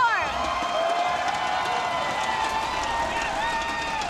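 A large arena crowd at a Heroes of the Storm esports match cheers and whoops in a steady, loud roar that fills the whole stretch, with voices mixed into the din.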